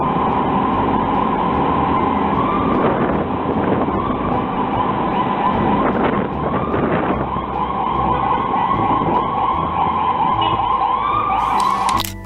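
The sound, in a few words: ambulance siren in traffic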